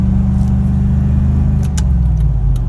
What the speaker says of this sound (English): Instead of shifting to third, it just redlines.